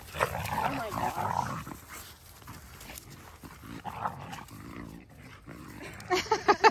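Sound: dogs growling while playing

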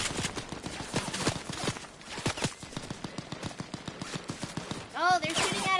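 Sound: gunfire in Fortnite video game

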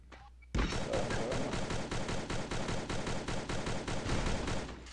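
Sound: gunshots in Free Fire video game

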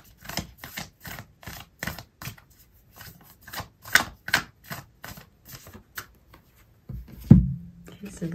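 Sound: shuffling oracle cards

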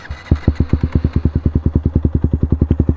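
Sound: motorcycle engine running in first gear

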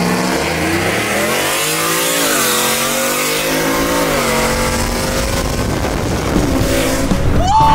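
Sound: sleeper Ford F150 work truck racing

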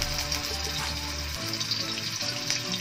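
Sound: ginger frying in oil for squid adobo

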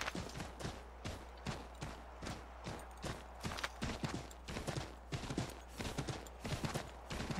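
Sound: horse hooves clip-clop in video game

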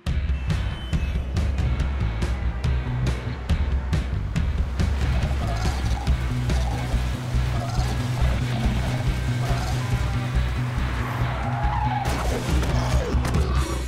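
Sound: car skidding and tires squealing

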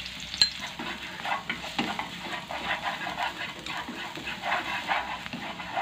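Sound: minced dried shallots and garlic sizzling in frying oil

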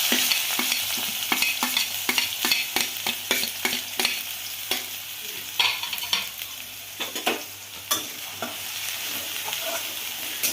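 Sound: onion frying in oil with cumin, mustard seeds, asafoetida

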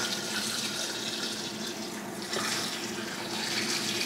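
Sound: pouring hot water over sorrel

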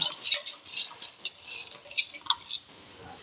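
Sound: water and washed green gram poured into pressure cooker

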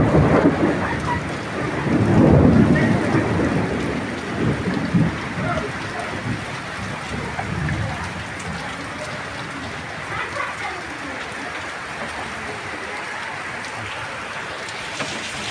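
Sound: rain with thunder

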